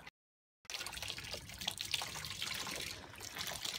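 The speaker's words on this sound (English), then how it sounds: "we're now putting it into the fermenter, as high as you can" Hoppy wheat beer wort pours into a fermenter from high up, a steady splashing trickle of liquid that starts after a brief silence and continues close and loud.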